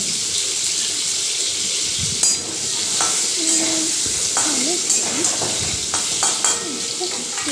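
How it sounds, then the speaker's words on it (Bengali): Salted pointed gourd (potol) frying in oil for aloo potol rasa, a loud, dense, continuous sizzle close up with occasional spoon clatter and stirring knocks. "এবার ওই তেলের মধ্যেই পটলটা দিয়ে দেব পটলটাও ভেজে নেব"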